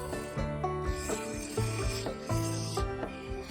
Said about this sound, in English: so I went at it, shear scraping the surface, blending the curves together